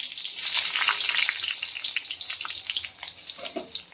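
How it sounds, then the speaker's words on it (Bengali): Raisins sizzle in hot oil in a pan with a steady, bright hiss that softens toward the end, broken by a few light stirring scrapes, with no voices. "তাহলে কিশমিশটা ভেজে নিচ্ছি।"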